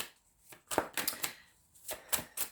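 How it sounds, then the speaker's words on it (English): Tarot cards shuffled by hand during a reading, a few soft, close riffling and slapping bursts with short pauses between them, quiet and heard without talk. "All the shuffling."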